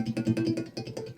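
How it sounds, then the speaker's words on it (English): Soft ringing harmonics on a Stratocaster electric guitar, sounded by barely touching the strings, come as a quick run of bell-like tones with a sustained hum underneath. "I'm barely touching the strings, and what you're hearing there are harmonics"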